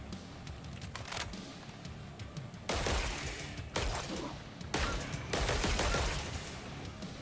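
Rapid gunfire in the Killing Floor 3 shooter video game, with several loud, dense bursts of shots close up, separated by brief lulls filled with background game noise.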